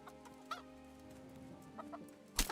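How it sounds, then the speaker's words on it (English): Chickens clucking in the video game Kingdom Come: Deliverance, with scattered short clucks over a steady ambient game hum and a louder burst of clucking at the end. "There's chickens."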